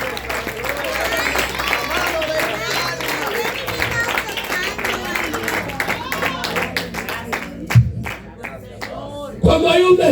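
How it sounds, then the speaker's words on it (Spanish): Applause and cheering from a church congregation clapping for the king, a dense, steady wash of claps with shouts and voices mixed in, continuing loud for about ten seconds before dipping and swelling again at the end. "aplauso al rey."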